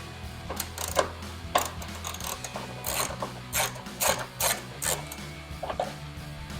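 A ratchet loosens headlight bolts on a 2019-2021 Chevrolet Silverado 1500, giving close, loud bursts of rapid clicking with short pauses between strokes.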